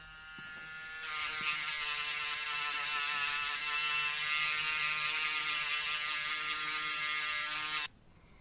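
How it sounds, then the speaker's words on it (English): A Tissot T-Touch watch case is worked with very soft sandpaper on a wooden stick, producing a steady, close, buzzing whir that holds for about seven seconds and then stops abruptly. "I use very soft sandpaper which is attached to the wooden stick."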